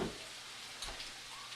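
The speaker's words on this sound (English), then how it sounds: "let them fry a little bit just so they can get nice and crispy before you add in the eggs" Tortilla pieces fry in a pan for chilaquiles, a soft continuous sizzle with a couple of brief stirring bursts, fairly quiet.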